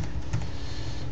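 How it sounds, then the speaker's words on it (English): Keywords are typed on a computer keyboard, a short run of close, light key clicks with no voices. "I'm just going to type in fishing lures."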